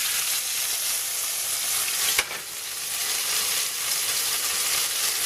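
Ostrich steak coated in spices sizzling loudly in a hot pan, a steady bright frying hiss with one brief scrape as the meat is moved around, close and continuous, no talking.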